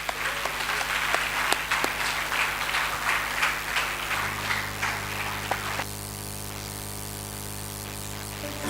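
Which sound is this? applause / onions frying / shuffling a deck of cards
applause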